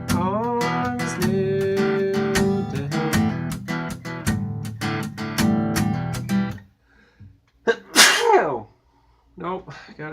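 A single sudden sneeze bursts out after a stretch of singing, loud and close, followed by brief quiet and a few more vocal sounds.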